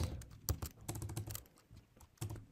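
Quiet, close typing on a computer keyboard comes in irregular bursts of sharp key clicks with short pauses between them, and no voice is heard.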